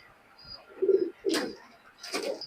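White golden high-flying pigeon cooing in low, throaty bursts, two clear coos close by with a faint higher call and a brief rustle between them.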